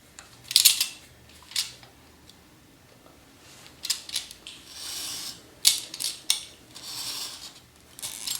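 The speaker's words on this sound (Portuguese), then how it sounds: "O corte foi feito nas 3 laterais dessa moldura." A utility knife slices through a cardboard picture frame, giving a few short scraping cuts with pauses between them, close and fairly quiet with no talking.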